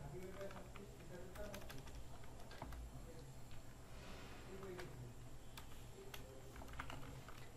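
Fingers tap a computer keyboard in quick irregular bursts of clicks, close but quiet, while someone talks over the typing.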